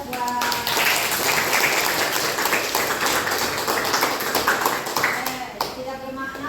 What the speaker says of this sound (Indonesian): Oke, aplaus buat.